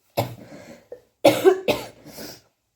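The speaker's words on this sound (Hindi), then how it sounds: "खांसी खांसी खांसी खांसी" A person coughs hard in several separate bursts, a short catch followed by two or three loud, close coughing fits with no other sound between them.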